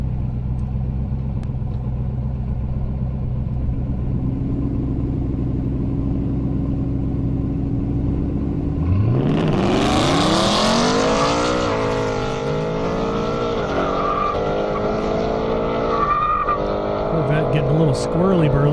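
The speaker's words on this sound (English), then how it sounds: "Mustang GTs, Sean Wall in the C5 Corvette" Drag racing cars at a half-mile airstrip event, Mustang GTs and a C5 Corvette, launching hard and accelerating loudly with rising engine whine and tire noise, under steady idling rumble first and a commentator talking over it.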